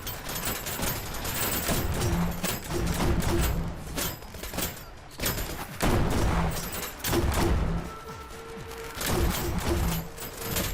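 Shotgun fire in a video game firefight: repeated heavy blasts and booms fire in irregular bursts over a steady din, loud and punchy throughout, with no clear talk over them.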